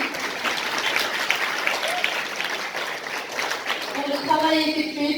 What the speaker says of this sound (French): Je vous demanderai juste d'applaudir aussi comme il se doit